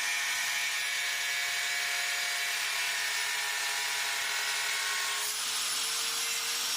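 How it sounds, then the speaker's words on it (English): An angle grinder cuts a fiberglass Votex front lip for a B5 Passat with a steady, loud, high whine that holds throughout and shifts slightly near the end. "Shot of my tracing job with the angle grinder"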